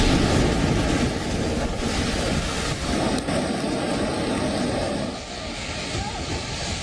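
A swollen, flooding river rushes through the mountains of Himachal during heavy rain, a loud continuous roar of churning water with wind noise buffeting the microphone.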